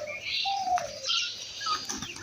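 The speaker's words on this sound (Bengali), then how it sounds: "অনেকগুলো কবুতর" Pigeons feeding in the morning give soft coos and a few chirps nearby, intermittent and quiet with no talk over them.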